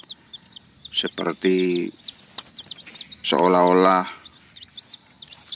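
Sumatran red junglefowl chicks, under nine days old, cheep in quick repeated high peeps throughout. Someone talks over them in short bursts.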